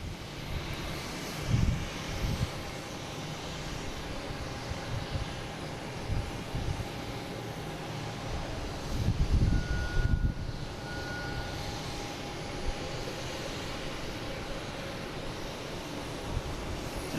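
A Delta Embraer E175 jet at Boston Logan International Airport produces a steady, broad roar of engine noise at moderate distance, with wind buffeting and a few louder low gusts.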